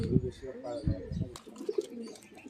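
A pair of breeding pigeons coo in low, throaty bursts close by, with someone talking over them.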